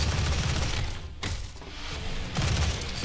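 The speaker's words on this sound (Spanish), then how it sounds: "Esos son los misiles que decía antes" Loud, dense bursts of missile fire in DOOM with rapid crackling blasts, easing briefly mid-clip before another barrage at the end.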